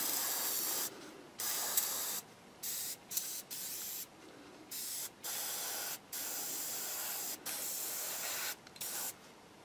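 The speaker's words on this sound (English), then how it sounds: "So it's going on as a really, really fine mist." Airbrush spraying a very fine mist of paint onto a 1/32 scale model kit part, with a compressor running; steady hissy bursts of several seconds each, separated by short pauses, close and alone.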